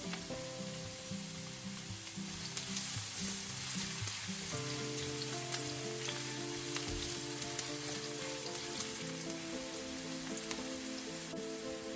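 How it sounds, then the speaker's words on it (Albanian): Chopped onion frying in about 60 ml of oil in a pan, a steady close sizzle with light crackling and occasional stirring scrapes, continuous throughout with no talking. "Do të hedhim qepën dhe do ta përziejmë her pas here për 1 deri në 2 minuta"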